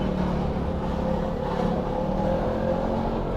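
A motorcycle carrying a heavy passenger, its engine droning steadily and straining under the load, loud and continuous with a low rumble throughout.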